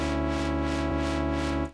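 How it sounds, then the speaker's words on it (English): Sustained synth chord run through a kilohertz distortion, a thick buzzy tone with slow rhythmic swells, cutting off abruptly at the end, heard alone. "We start with a kilohertz distortion"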